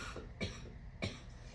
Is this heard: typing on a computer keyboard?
no